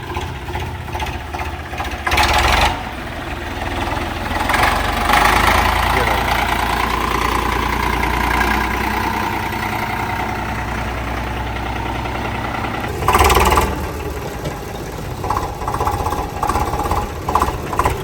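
A loud, rough tractor engine running without a silencer rumbles steadily with a harsh knocking clatter, close by, with people talking over it.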